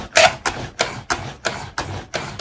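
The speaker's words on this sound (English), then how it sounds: "you gotta do it vigorously enough to hear that clicking sound" A pet hair remover roller pushed vigorously back and forth across a comforter gives off a regular series of sharp plastic clicks, about one every third of a second, close and crisp, with no talking.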